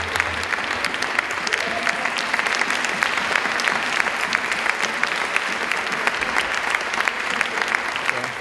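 A cinema audience at a film premiere for Victor 'Young' Perez gives loud, sustained applause to welcome the film crew, a dense wash of clapping that holds steady throughout.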